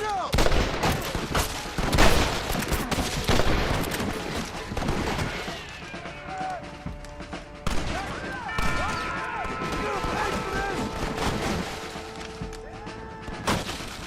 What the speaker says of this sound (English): Now, I'm having trouble shooting here.